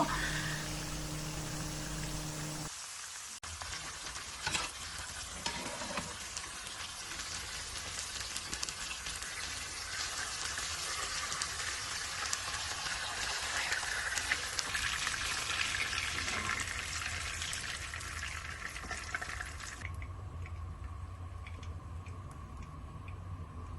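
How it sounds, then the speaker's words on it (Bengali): Marinated koi fish fry in oil, making a steady, fairly quiet sizzle with fine crackling that runs evenly for over twenty seconds after a brief sharp break near the start. "মাখিয়ে রাখা মাছগুলো আমি একে একে ভেজে নেব"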